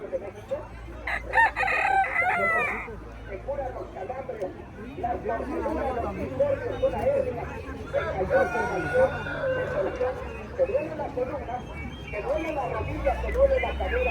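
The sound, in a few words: Japanese chickens and roosters crowing at market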